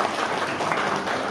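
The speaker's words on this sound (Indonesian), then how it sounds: "Tepuk tangan dong buat keluarga besar ya." A crowd applauding for the family at an 80th birthday party, dense steady clapping from many hands throughout the short moment.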